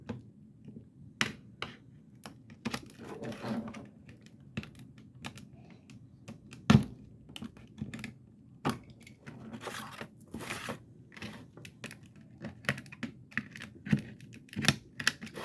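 A craft cutter slices through paper on a cutting mat while a small miniature is made, producing close, irregular clicks and crisp scraping cuts scattered through quiet pauses.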